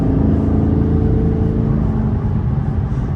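A lowered Dodge Charger SRT8 accelerating, its exhaust giving a loud, deep, continuous rumbling roar heard close up and steady throughout.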